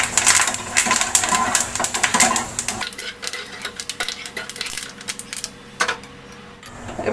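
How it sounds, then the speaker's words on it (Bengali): Curry leaves spluttering and crackling in hot oil in a pan, a dense burst of sharp pops and sizzle that eases into scattered crackles and clinks, close and fairly loud, with no talking. "কারি পাতাটা দিলে বেশ ফুটবে।"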